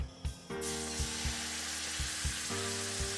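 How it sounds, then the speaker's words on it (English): Hot oil bursts into a loud, steady sizzle in a pan, with a few soft clanks and taps of cookware underneath. "Should hear that sizzle."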